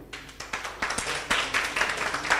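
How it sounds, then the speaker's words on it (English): A seated group at a youth policy and governance dialogue claps in an uneven, moderately loud patter that builds slightly, one section of the audience clapping on request. "So this side, please clap for this side."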